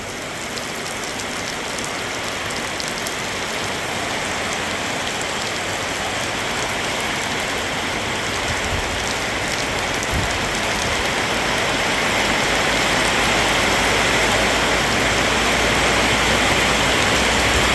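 Steady rain pattering on a farm, a dense continuous hiss of drops on surfaces that builds slightly louder toward the end, with no voices.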